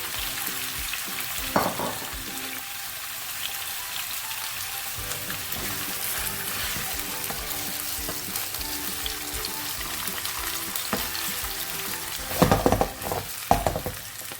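Sausages frying with spring onion in a pan for a sausage stew, a steady close sizzle with fat crackling throughout, punctuated by a few louder scraping stirs near the end, no speech.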